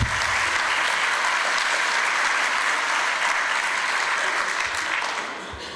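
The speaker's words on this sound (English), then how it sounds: "we'll pass on to her your warm applause" Warm, sustained applause from an audience at a community talk, a dense even wash of clapping that fades a little near the end.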